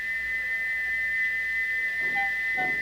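A steam locomotive whistle holds one steady, shrill tone from start to finish, loud and unbroken over faint background noise.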